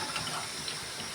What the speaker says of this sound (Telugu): పులుపు ఎక్కువ ఉంటే వాటర్ పోసుకుంటాం.